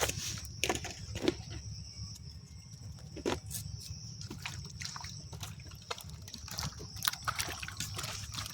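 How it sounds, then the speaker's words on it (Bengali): Potatoes being rinsed a second time in water in a home kitchen, with soft sloshing and trickling plus a few sharp clinks of pot or utensils, close and fairly quiet against a steady low background hum. "আলুটা আরেকবার জল দিয়ে ধুয়ে নিলে পরিষ্কার করে একবার ধুলাম আরেকবার ধুয়ে নিই"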